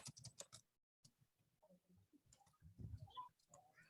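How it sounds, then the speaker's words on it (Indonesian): Sparse clicks and taps of keys on a computer keyboard in a quiet room come in short irregular clusters, with a quick flurry at the start and another near the end. "saya lagi ngetik ya"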